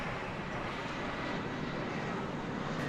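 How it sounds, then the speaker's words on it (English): An American Airlines Boeing 787-9 Dreamliner taxiing gives off a steady, broad engine rumble and whoosh, loud and unbroken, with no voices over it. "This 7879 Dreamliner, American Flight 132, it's going to Dublin."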